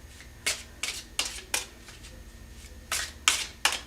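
Tarot cards are shuffled and drawn by hand, giving a series of crisp, quick riffling bursts in an irregular rhythm, close and fairly quiet, with no talking.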